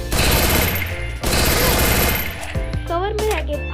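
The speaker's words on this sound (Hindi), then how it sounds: "ऐसे कवर फायर, ये हो गया एक कवर फायर।" Rapid MP40 submachine gun bursts as cover fire in a shooting video game, loud and continuous, with brief pauses and other game sounds layered in.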